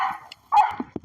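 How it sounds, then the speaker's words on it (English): A police dog barks and yips in a few short, sharp bursts close by, with brief quiet gaps between them. "A lot of people hear the dog and just give up."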